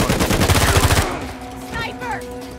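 Rapid gunfire in the game Uncharted 4, a loud burst of repeated shots for about a second, followed by quieter game sounds and echoing effects.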